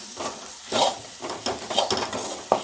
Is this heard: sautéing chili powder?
yes